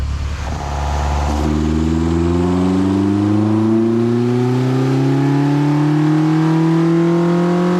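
A Nissan Sunny truck (Datsun 1200 ute) engine revs steadily upward on a dyno, its rising harmonic drone loud and continuous, building in pitch across the run with no talk over it.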